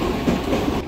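London Underground subway train rumbling steadily nearby, a dense continuous roar with faint rhythmic rattle, no voices.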